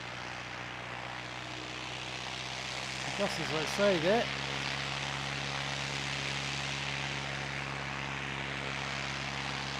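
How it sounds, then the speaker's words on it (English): An ATR 72-600 turboprop airliner's engine drones steadily at an aero club, a continuous mid-distance roar that holds for the whole stretch while someone speaks briefly over it. "And the noise that you will be able to hear coming off of this ATR"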